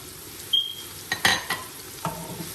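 Onions dropped into warm oil in a pan for a karela and qeema dish, a few sharp sizzling bursts and clinks over a quiet background, with a short high squeak early on.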